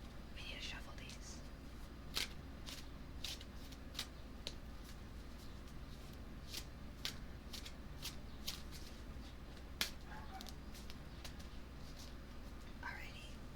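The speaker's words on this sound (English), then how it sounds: "We need to shuffle these." Tarot cards being shuffled by hand in a quiet room for ASMR, giving soft repeated riffling and tapping clicks close to the microphone over a low steady background hiss.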